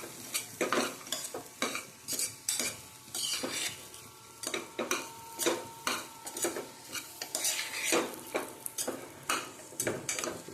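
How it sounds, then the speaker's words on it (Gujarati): Choli (long bean) curry, a Gujarati dish, is stirred in a pan: a steady run of close scraping and clinking spoon strokes against metal, with a soft sizzle underneath and no talking. "હવે આપણે એને થોડું હલાવી દઈશું।"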